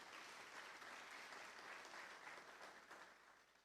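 Steady applause from an audience at a cyber security graduation ceremony, a continuous patter of clapping heard at a distance and fairly faint, without a break.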